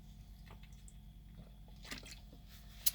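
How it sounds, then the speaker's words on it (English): A person takes a drink of water, giving a few faint, soft sips and swallows that are brief and quiet against a low background hum, with no talking. "Give me a minute to get a drink of this water."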